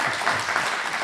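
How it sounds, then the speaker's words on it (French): A brief burst of audience applause after a talk at a conference on trade imbalances, a continuous, even wash of clapping from a medium-distance crowd. "On peut vous applaudir, merci beaucoup pour ces propos très pertinents."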